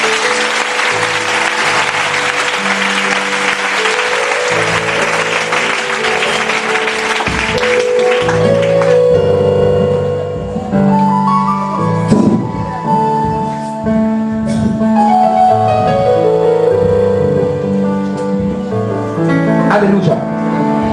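A church congregation cheers and applauds loudly for Jesus, with dense clapping and shouting for about eight seconds before it thins into voices and music.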